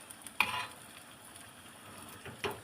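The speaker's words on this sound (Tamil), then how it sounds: "இப்போ பழத்தை பொரிய ஆரம்பிக்கிறது" Fruit fries in a pan for carrot halwa with a quiet, steady sizzle, broken by a couple of sharp stirring clinks and scrapes against the pan.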